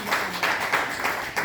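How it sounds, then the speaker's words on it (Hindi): Short, rhythmic audience clapping at a business training seminar, a handful of evenly timed claps applauding a woman in the room, moderately loud and close. "मैडम के लिए बहुत जबरदस्त तालियां होनी चाहिए।"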